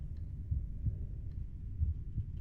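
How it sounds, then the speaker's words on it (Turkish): Heartbeat from the horror video game Fatal Midnight, a low, muffled thumping pulse repeating at an irregular pace over a steady low hum, with no voices. "Kalp atışları var."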